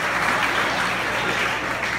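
Applause for the hosts at a wedding reception, a large crowd clapping steadily and loudly throughout, dense and continuous with no pauses.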